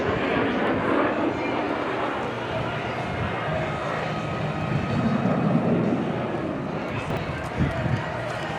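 An A-37 Dragonfly jet flies at an airshow with a broad, loud roaring rumble that swells and holds steady, while an announcer talks over it and crowd noise sits underneath.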